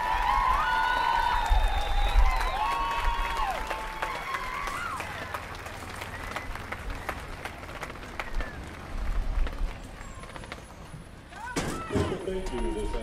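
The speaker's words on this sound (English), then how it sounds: "One more round of applause, if you please, for the Silver Jaguar Brigade." Audience applause in a stadium for a high school marching band, a continuous broad clatter of many hands that swells and eases over several seconds, with a whistle and a few voices cutting through near the end.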